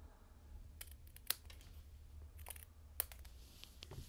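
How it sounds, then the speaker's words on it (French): Scissors snip paper for a pop-up card, a few crisp, faint clicks and cuts spaced apart over a quiet background. "on coupe ce qui dépasse."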